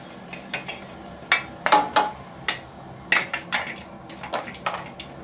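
Tempering goes into a pan of browned onions for moong and chana dal. It comes through as a run of sharp metallic clinks and scrapes of a spoon against the pan over a faint sizzle, with no voices.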